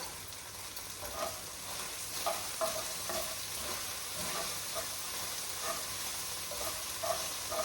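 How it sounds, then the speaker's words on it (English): Butter being stirred into food frying in a pan, with a steady sizzle under faint, rhythmic scraping of a utensil. "So I'm just mixing in that butter."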